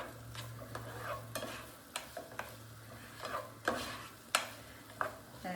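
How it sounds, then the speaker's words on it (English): Onion sautéing in olive oil in a pan, stirred with a utensil that scrapes and taps in repeated strokes over a steady low sizzle, close and moderately loud with no talking. "Okay, let's stir that together."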